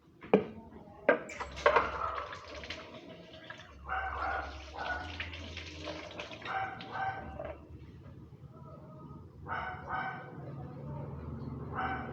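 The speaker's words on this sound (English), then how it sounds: "Add some more soap. Rinse. Wash it again. Scrub it again." A Buddha statue is scrubbed and rinsed with soapy water, close splashing, trickling and sloshing with scrubbing scrapes and knocks in irregular bursts, and a sharp bark-like burst near the start.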